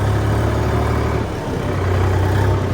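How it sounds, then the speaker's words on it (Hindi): A tractor engine runs close and loud with a deep, steady drone that dips briefly midway before resuming at the same level. "देखो जैसे मैं रेस को रेव करता हूँ ना तुरंत।"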